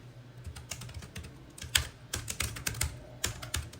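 Fingers type Kotlin code on a computer keyboard at close range, a quick uneven run of soft key clicks with a few louder strokes and short pauses.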